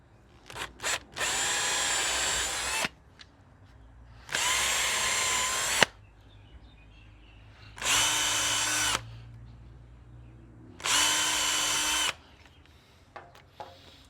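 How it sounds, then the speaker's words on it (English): A power drill pre-drills a hole while a Reolink Atlas PT Ultra camera mount is installed, running in four sustained whirring bursts of about one and a half seconds each, separated by short pauses, close and loud with no talk. "I'm going to pre-drill a hole."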